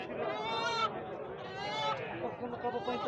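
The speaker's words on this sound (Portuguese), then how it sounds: "Criação de cabra aqui bonita." Goats bleating in a pen at a traditional goat market in Jataúba, Pernambuco, a dense overlapping chorus of wavering calls close by, with people talking in the background.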